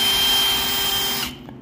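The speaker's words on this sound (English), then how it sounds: "Speed one on the cordless drill." A cordless drill on speed one drives a cleaning brush head to scrub mud and grease off boots. It gives a steady high whirring buzz that winds down and stops at the end, close and loud, with no speech.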